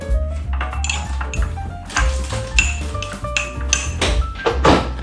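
Utensil clinks and scrapes against a dish while rainbow sandwich filling is stirred, a quick irregular series of close, fairly quiet clatters and taps.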